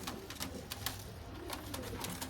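Domestic pigeons, four birds kept for sale, coo softly close by, with repeated short bursts of wing or body movement scattered over the low, continuous murmuring.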